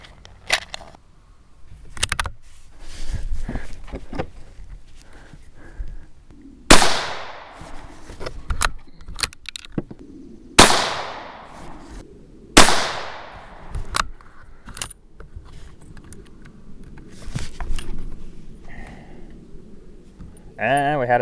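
Several .17 HMR rifle shots fired with Federal ammunition crack sharply at intervals of a few seconds, each with a brief decaying echo, between quieter handling noises and some talk.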